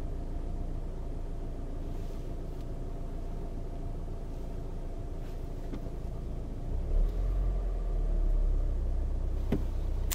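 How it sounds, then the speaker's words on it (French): Engine of a 2001 car that also runs on ethanol idling steadily, a low continuous rumble heard up close that swells slightly toward the end, with no talk. "Le moteur qui tourne aussi à l'éthanol."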